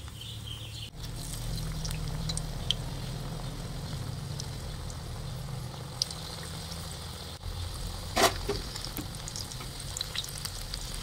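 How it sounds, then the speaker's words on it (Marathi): Spinach leaf bhaji fritters deep frying in hot oil over low to medium heat, a steady close sizzle and crackle running throughout, with a brief louder burst of bubbling partway through and no talk. "पालकाचं एक पान ह्या पिठामध्ये व्यवस्थित डीप करून घ्यायचे आणि भजी तळून घेऊयात।"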